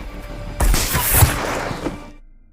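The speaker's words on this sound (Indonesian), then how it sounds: "Raven pun melepaskan tembakan." Gunfire from a sniper battle in a war film, a burst of loud booming shots with a rumbling tail that fades out, heard over a dense cinematic background.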